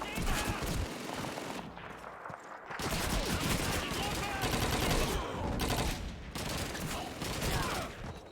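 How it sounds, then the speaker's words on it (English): MG-42 machine gun fire in Call of Duty 2 rattles in loud sustained bursts, with short pauses between long stretches of dense, continuous gunfire and battlefield noise. "Machine gun MG-42! Up on the second floor!"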